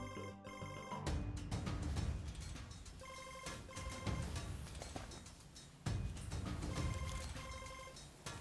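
A telephone rings in a home drama scene, its electronic trill repeating in several bursts over a low background bed, fairly quiet.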